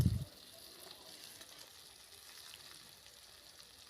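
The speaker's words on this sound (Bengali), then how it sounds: "ভালো করে ভেজে নেব।" Potatoes and eggplant fry in a pan with a faint, steady sizzling hiss after a short knock at the start, with no voices.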